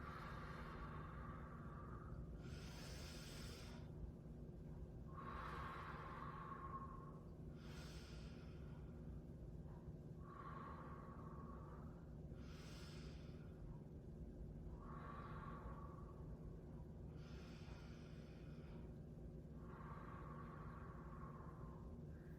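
Slow, deep human breathing during a relaxation exercise, with about eight long, regularly spaced inhales and exhales, each a soft airy rush, heard faintly over a steady low background hum.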